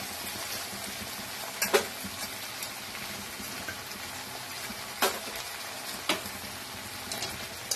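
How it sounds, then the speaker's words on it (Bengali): Bhola fish frying in a pan gives a steady sizzle and crackle, broken by a few brief scraping stirs and sharp clicks at intervals, with no talk. "এবার মাছটাকে ভালো করে নাড়াচাড়া করবে"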